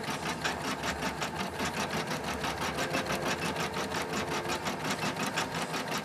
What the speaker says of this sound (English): while it's stitching the white here, it will also go over and stitch the candy cane support